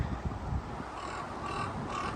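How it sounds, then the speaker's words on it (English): Crows caw a few times in the distance over steady outdoor background noise at a cemetery with mausoleums, with low rumbling near the start. "crows are talking today"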